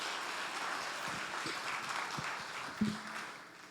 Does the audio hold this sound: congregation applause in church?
yes